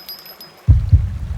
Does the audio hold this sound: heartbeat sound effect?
yes